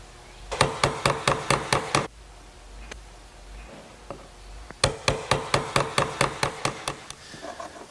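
A sharp chisel is mallet-tapped to square the back corners of a wooden Shaker wall clock case. Two quick bursts of about eight crisp, evenly spaced knocks are separated by a quieter pause with scraping, close and clear with no talk.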